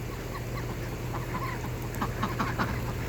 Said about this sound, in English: You can hear his quack is different.